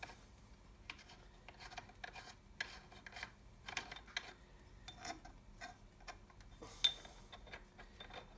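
A threaded part is wound out of a front differential case by hand while fitting an Ashcroft ATB, giving quiet, irregular metallic ticks, scrapes and rubbing, with a sharper click near the end.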